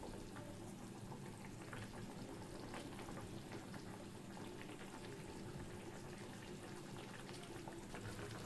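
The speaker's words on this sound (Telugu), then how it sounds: "చూడండి, మనం పోసుకున్న వాటర్ కూడా మరుగుతుంది" Faint, steady bubbling of water boiling in a pot, a low continuous rumble and gurgle with no voices.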